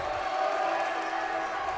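Crete fans cheer at a high school boys varsity basketball game against Norris, a steady roar of crowd noise filling the gym without letup.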